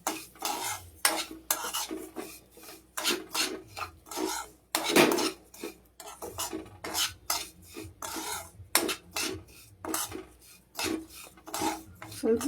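Food being stirred and fried in a pan, a spoon repeatedly scraping and clattering against the metal in quick irregular strokes, close and fairly loud, with a soft sizzle beneath and no talking.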